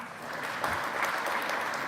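A conference audience claps together to vote during a talk on image colorization, a steady broadband patter of many hands filling the room at moderate level with no speech.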